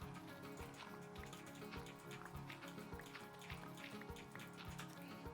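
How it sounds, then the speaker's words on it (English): Steady rain in a video game falls as a dense, even patter of drops, continuous and moderately loud, with low thumps and a faint tonal hum beneath and no talk. "Of course we get shitty rain, which I hate."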